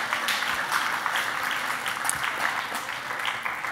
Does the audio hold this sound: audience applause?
yes